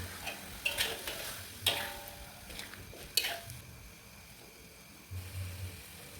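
Meat cooking in a pan with sweet soy sauce and seasoning gives off a faint, low sizzle. Soft scrapes and taps come now and then from stirring, and no one speaks.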